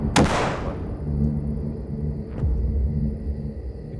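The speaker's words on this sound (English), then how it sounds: "Gunshots that came from inside the house." A single loud, close bang from a gun fired inside a house in a horror video game, followed by a low rumbling tail, with a fainter second crack about two seconds later.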